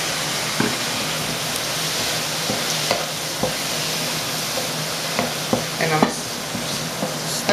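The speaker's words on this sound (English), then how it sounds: "stir this for about another minute before we add our rice" Shrimp with their juices sizzle steadily in a pan while a spoon stirs them, scattered scraping clicks over the continuous close frying hiss, with no voices.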